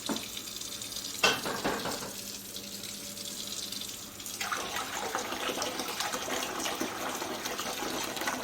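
Cold water running from a kitchen tap, a steady hiss that starts abruptly, stops, then resumes as a fuller splashing stream with a faint hum beneath.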